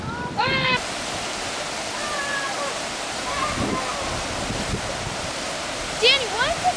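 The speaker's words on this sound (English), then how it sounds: "why does this creek make a great water slide?" Water rushes steadily down a creek used as a natural water slide, a constant broadband roar with children's voices and squeals rising over it now and then.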